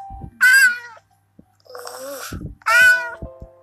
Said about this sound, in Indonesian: Dasar kucing gembul.